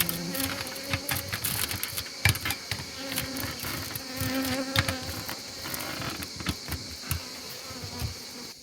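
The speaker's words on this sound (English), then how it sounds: "apart from a million bees flying around your head and your ankles" Honeybees flying around outdoor beehives, a steady close buzzing drone with individual bees zipping past the ear, loud and continuous with no talk.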